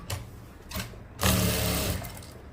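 A sewing machine stitches a men's shirt, with two short bursts of whirring followed by a louder, sustained run lasting under a second, close up with no talking.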